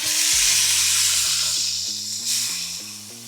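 A freshly flipped smash burger patty sizzling on a hot griddle produces a steady, loud hiss up close, with a music track playing underneath and no talk.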